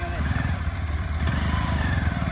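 A motorcycle engine revs hard on a dirt track during an informal race, loud and close with a throbbing low rumble and rattling clatter throughout.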